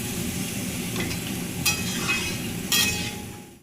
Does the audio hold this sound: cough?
no